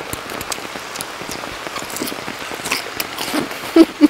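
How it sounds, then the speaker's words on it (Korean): Steady rain falls during an outdoor countryside meal of samgyeopsal and kimchi grilled on a cauldron lid, with close drops pattering and a couple of louder thumps near the end. "비가 와가지고"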